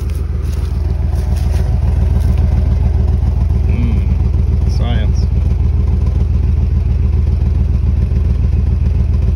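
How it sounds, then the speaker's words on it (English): A truck with a big exhaust runs steadily, its loud, close engine rumble droning throughout while someone talks over it. "Now this truck has big old exhaust, so it shouldn't take very long."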